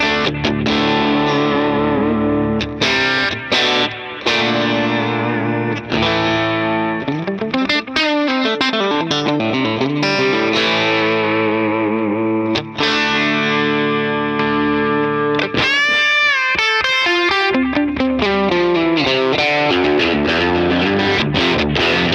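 Electric guitar played through Tonex One and M5 effects units, with Fishman pickups, sounds distorted and chorus-laden. Chords and lead lines run continuously and loudly for over twenty seconds with no talking.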